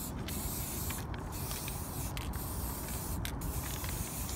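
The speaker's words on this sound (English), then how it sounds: "Sounds like spray paint." A spray paint can hisses in steady bursts inside a graffiti tunnel, with brief pauses between sprays, close and fairly quiet.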